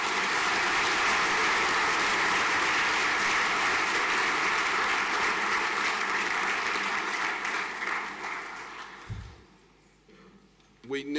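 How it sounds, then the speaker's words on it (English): A crowd at a school prizegiving applauds steadily for several seconds, dense clapping that gradually thins out and fades, with a brief voice near the end. "A large round of applause, please."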